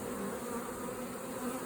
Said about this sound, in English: the carpenter bee is a solitary bee